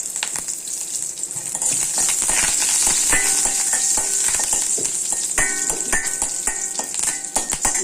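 Curry leaves sizzle loudly in hot oil while cooking a mutton gravy, a steady crackling hiss that swells after the first second and carries on with sharp pops and faint clinks.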